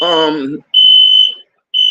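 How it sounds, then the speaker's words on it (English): Smoke alarms in a building sound loud, piercing, steady beeps that repeat in a regular on-off pattern, with a voice heard briefly at the start. "that's the alarms going off in the building"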